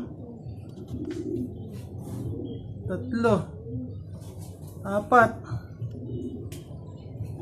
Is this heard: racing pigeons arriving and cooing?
yes